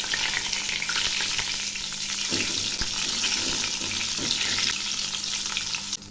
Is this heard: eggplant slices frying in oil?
yes